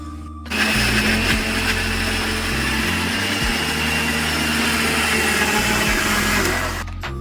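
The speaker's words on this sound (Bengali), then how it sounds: "এবার একটু আমি মিক্সিতে পিষে নিচ্ছি" Kitchen mixer grinder running steadily to blend a coriander leaf chutney, a loud continuous motor whir with pulsing changes in load, starting abruptly and stopping near the end, no voices.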